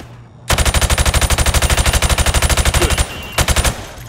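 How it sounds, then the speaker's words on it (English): Rapid automatic gunfire in Call of Duty: Modern Warfare Remastered, fired through thin plywood at targets: a loud, sustained burst of evenly spaced shots for about two and a half seconds, a pause, then a shorter burst. "I want you to shoot the targets through the wood."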